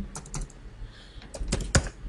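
Keys on a computer keyboard are struck in quick bursts while entering a router command, a handful of close, crisp clacks ending in a firmer final keystroke.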